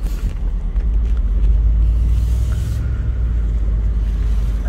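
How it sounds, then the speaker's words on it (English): A 2015 Mercedes E550 convertible with a twin-turbo V8 hums along on a road test, a loud, steady low rumble of engine and road noise with no speech. "So I'm taking it for another road test now because I had the tires off."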